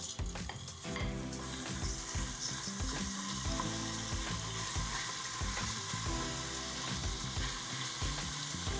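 Steady, dense sizzling of chicken frying in butter in a hot pan, continuous and close throughout with faint crackles and pops.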